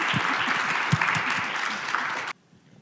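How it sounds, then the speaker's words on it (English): Conference audience applause, a thick, steady clapping with a few louder claps, cutting off abruptly into near silence just before the end. "Let's give a quick hand of applause to Linda and Dani, and then we'll open it up"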